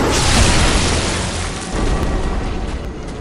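Explosions burst in the Bloodborne video game on PS5 during a boss fight, loud rumbling booms rolling one after another with dense crackling debris.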